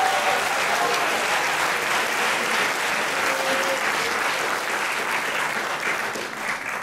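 Sustained applause at a national hospital radio awards ceremony, a dense, even clapping from a large audience lasting several seconds with faint voices mixed in.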